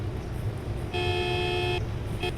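A vehicle horn in the Roblox game Plane Crazy sounds one steady, clear electronic tone for just under a second, over constant low game background noise.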